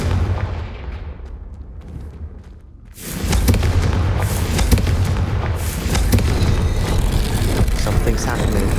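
Confringo fire-blast spell in Hogwarts Legacy, a sudden booming burst after a quieter lead-in, followed by a loud rumbling, crackling roar that fills the rest.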